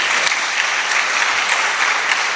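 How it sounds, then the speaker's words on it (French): Steady audience applause fills a church or conference hall, dense, even clapping from many hands lasting throughout without a break. "Oui, applaudissez-le."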